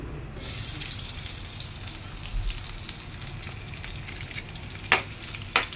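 Garlic and onion fry in a pan with a steady, close sizzle that runs throughout, marked by a few sharper crackles and stirring clinks near the end.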